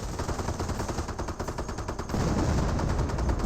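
An MG42 machine gun fires in Company of Heroes, a rapid, steady stream of shots that grows louder and denser in the second half, with booming low impacts mixed in and no voices.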